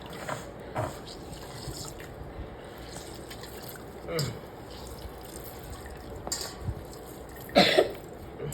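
Wet squelching and dripping as ripe grapes are squeezed by hand for homemade wine, soft close splashes and squishes at irregular intervals with a louder burst near the end, with talking and a cough in the background.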